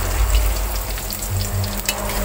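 Food sizzles steadily in a hot frying pan while a Javanese home meal is cooked, a continuous crackling fry with a few brief stirring clinks and pops, close and fairly loud with no talk.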